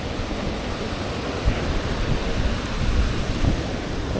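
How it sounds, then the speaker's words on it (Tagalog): Heavy rain pours down during a camping trip in Quezon, a dense steady roar with gusting wind and no voices, loud and continuous throughout. "Ang lakas ang ulan, no?"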